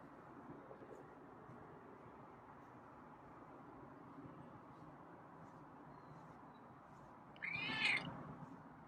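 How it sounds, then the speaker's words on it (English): A single short meow from a feral cat near the end, after a long stretch of quiet low background rumble. "Oh, got some meows today."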